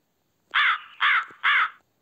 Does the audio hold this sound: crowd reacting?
no